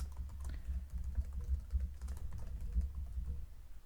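Computer keyboard keys clatter in quick, steady runs of close clicks while code for a webpage is typed, with no voice over the typing.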